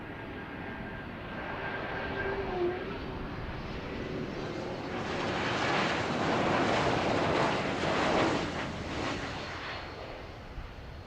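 A Swiss Embraer E2 jet, a larger-capacity version, departing Zurich Airport, its engines producing a steady broad roar that swells over about eleven seconds amid wind noise, with no talking.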